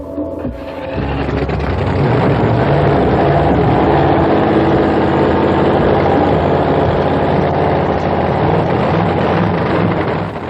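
After a short quiet moment, a nitro-fueled drag racing engine fires up and settles into a loud, sustained, roaring rumble that fills the rest of the clip.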